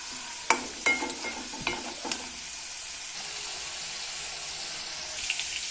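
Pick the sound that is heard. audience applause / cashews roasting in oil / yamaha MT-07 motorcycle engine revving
cashews roasting in oil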